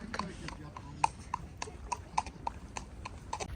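Horses walking on a horseback safari, hooves clip-clopping in an irregular, close rhythm of sharp knocks, with people talking faintly in the background.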